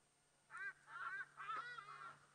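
A wild bird on safari gives a series of honking, goose-like calls, three or four harsh nasal notes at moderate distance over a quiet background, with no talk.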